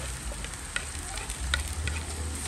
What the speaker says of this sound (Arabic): غادي نقلب هذا الفلفل